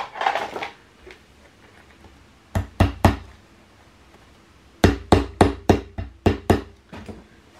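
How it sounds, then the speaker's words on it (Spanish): Hammer tapping a metal paper fastener while making a scrapbook album: a few sharp knocks, then a quick run of about eight crisp taps, close and loud with quiet pauses between. "Le damos un golpecito con el martillo."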